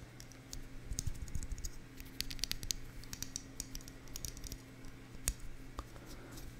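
Fingers tapping on a Mac keyboard: quiet, close clicks and light taps in irregular bursts, crisp and slightly high-pitched, over a faint low background hum.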